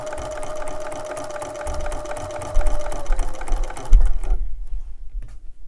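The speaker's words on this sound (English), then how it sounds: "we're going to stitch directly on that fold line on all those pieces" A sewing machine stitching quilt pieces along a fold line, with a steady rapid mechanical whir and rhythmic needle clatter close up that runs for a few seconds and then stops, followed by handling thumps.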